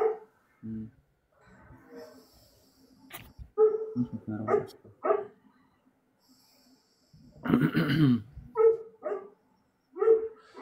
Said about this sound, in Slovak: Máte veľa psov, počujem tam.